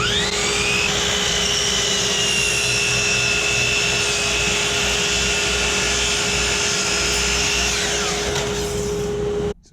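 A miter saw cutting a steep angle through a clamped wooden workpiece, a loud continuous whining motor roar with a steady tone and rising pitch shifts as the blade passes, stopping abruptly at the end.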